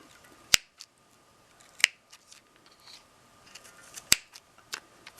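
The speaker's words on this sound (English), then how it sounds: "I've also got this pair of scissors, and I'm going to give this a try" Fiskars Easy Action snips cutting pom pom yarn give three crisp, close snips spaced a couple of seconds apart, with softer clicks and blade rustles between them in a quiet room.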